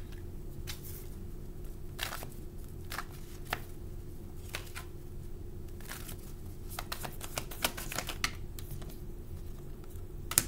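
Tarot cards being shuffled and drawn from a deck, a steady soft riffling and papery patter with scattered sharper flicks and taps, close and fairly quiet, with no talking.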